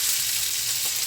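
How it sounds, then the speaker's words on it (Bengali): A small onion, a tomato and two green chillies fry in a pan over medium-high flame, making a dense, even sizzle with one faint stir partway through and no talking. "ফ্লেমটা মিডিয়াম টু হাই করে এটা একটু ভেজে নিই"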